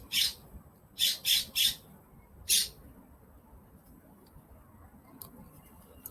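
Birds squawk outdoors in short, loud, shrill bursts, a quick run of four calls followed by a lone one, then quiet background.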